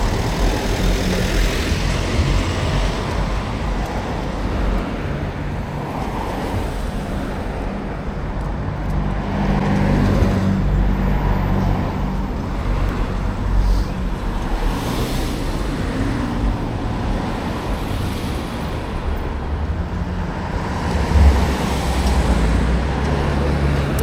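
Cars streaming past on a busy road at night, a constant low roar of tires and engines with gentle rises as individual vehicles go by, steady throughout and without voices.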